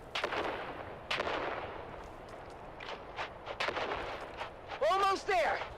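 Grenade blasts and gunfire in the Dune: Awakening video game, with several sharp booming bursts over a continuous din of battle and voices calling out nearby.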